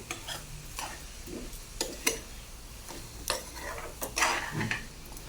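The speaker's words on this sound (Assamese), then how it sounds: "তেতিয়ালৈকে মই এনেকৈ লৰাই থাকিম চামুচ এটা দি" A spoon stirs raw mango jelly in a pan as it melts, giving scattered clinks and scrapes against the pan, with a soft sizzle underneath, close and moderately quiet.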